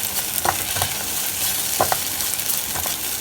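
Egg and onions frying in a pan with a steady, close sizzle, broken by a few short scraping stirs.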